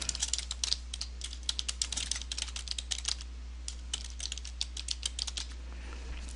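Typing on a computer keyboard, irregular bursts of quick crisp key clicks with short pauses, close and fairly quiet over a low steady hum.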